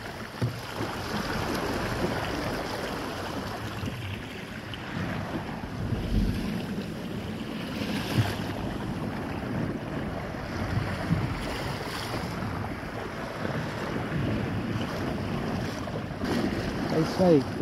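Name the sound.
wind while sailing a sailboat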